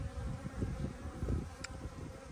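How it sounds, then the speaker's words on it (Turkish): Honey bees swarm and buzz at a busy, strong beehive, making a dense, continuous drone close by with no pauses and no talking. "Bu en güçlü arı."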